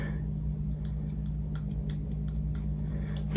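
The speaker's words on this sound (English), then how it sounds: "I'm about to cut the ball cap" Scissors snip a wig cap in a quick series of sharp, close cuts over a steady low hum, with no talking.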